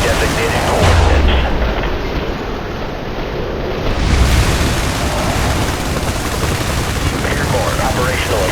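Airstrike explosions in the video game IS Defense, set at a harbor level, heard as loud rumbling booms mixed with heavy gunfire and artillery, sustained throughout, while a radio-style voice speaks over the action.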